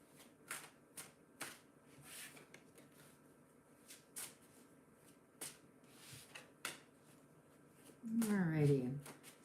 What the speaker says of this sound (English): Let me put these cards away.